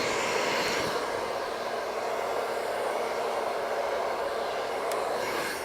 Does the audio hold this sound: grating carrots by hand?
no